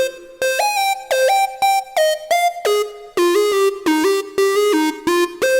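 Bright Serum synth lead in a melodic drum and bass style, playing a staccato riff of short plucked notes in a steady rhythm that steps between pitches, clean and alone with no voice.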